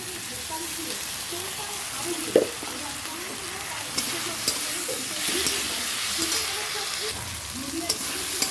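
Ginger and garlic paste sizzles and spits steadily in a hot pan, with scattered clicks of a spoon stirring against the metal throughout, fairly close and moderately loud.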